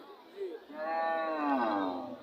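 A cow at a busy cattle market in Roumari gives one long, close moo lasting over a second, with faint crowd murmur around it.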